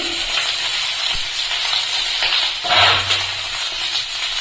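Prawn parcels sizzle and crackle steadily frying in a hot pan, with a soft clink partway through and no talking.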